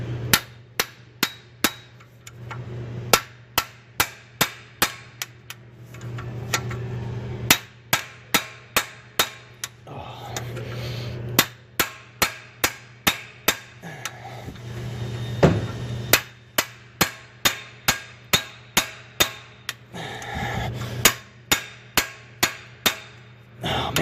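Sharp metallic hammer strikes on a stuck EGR bolt of a 6.7 Powerstroke diesel ring out in steady bursts, dozens of blows at a fast, even rhythm, with brief pauses between sets over a low engine hum.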